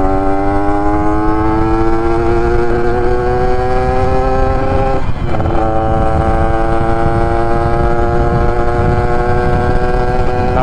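A Yamaha 125ZR two-stroke motorcycle with a Spec 62 build revs hard on a dyno, a loud continuous high engine whine with a brief dip in the middle before climbing steadily again, no talk.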